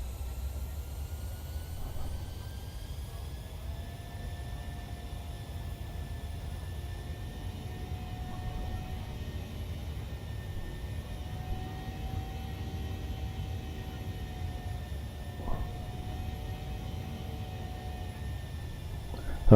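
Airliner on a fully manual landing approach at low altitude with flaps extended in Microsoft Flight Simulator 2020, a PMDG jet heading into Rosario, Argentina: a steady, broad engine rumble and whine holds evenly throughout, with faint tonal hums and a brief click near the end.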